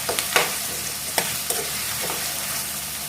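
Onions and green chillies frying in a pan for chicken curry, a steady sizzle punctuated by a few sharp stirring clacks and scrapes near the start and middle.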